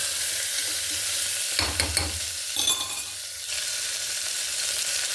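Chicken neck pieces stirred and frying in a pan for a puppy's meal, a steady close sizzle with a few scraping stirs and clinks against the pan in the middle, no talking.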